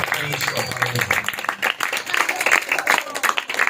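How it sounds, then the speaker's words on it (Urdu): Loud clapping from a church congregation fills the room, dense and steady throughout, with some voices mixed in underneath. "آئیے سب مل کر روح القدس کی زوردار تالیوں کریں"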